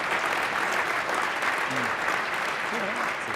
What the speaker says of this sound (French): Je pense qu'on peut les applaudir parce qu'on est vraiment bien entourés ce midi.